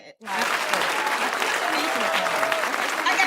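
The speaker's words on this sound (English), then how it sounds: "Okay, where's my applause at?" Audience applause at a live morning show bursts in after a brief pause and continues as dense, steady clapping.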